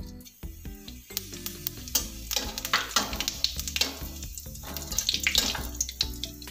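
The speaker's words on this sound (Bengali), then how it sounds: "এবার জিরেটা ফোড়নে দিয়ে দিচ্ছি।" Cumin seeds tempering in hot oil along with dried red chilli and bay leaf, crackling and sizzling in sharp bursts, with clinks and scraping of a spatula against the pan close up.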